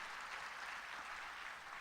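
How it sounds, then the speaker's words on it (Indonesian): Church congregation clapping together during a Christmas sermon in Nias, a steady wash of many hands filling the space without a break. "sama-sama kita bantu tepuk tangan"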